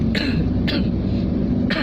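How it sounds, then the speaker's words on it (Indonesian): Three short, sharp coughs spaced apart over a low background hum, fairly close and loud. "dadak batuk, sorry"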